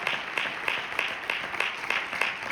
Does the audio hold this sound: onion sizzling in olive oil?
no